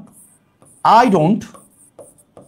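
A marker squeaks and scratches across a classroom board in one sustained stroke while an English sentence is written, with a few faint taps and quieter strokes after it.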